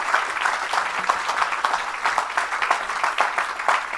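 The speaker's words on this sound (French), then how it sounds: "Oh, acclame plus fort que ça" A church congregation applauds and cheers during a Saturday service, with steady, dense clapping from a crowd that continues without a break.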